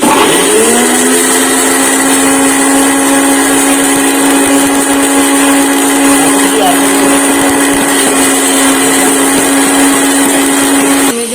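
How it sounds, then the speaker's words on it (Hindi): A kitchen grinder chops bread at full power, a loud steady high-pitched motor whine that spins up in the first second and runs without a break to the end. "डब्बा रोटी को मैं ग्राइंडर में अच्छे से चॉप कर लेती हूँ"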